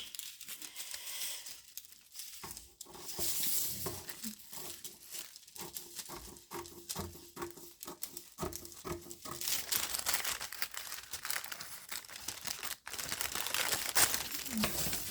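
Scissors cut through paper pattern for a basic sleeve, giving crisp, close crinkling and rhythmic snipping in bursts with short pauses, then rustling paper handling.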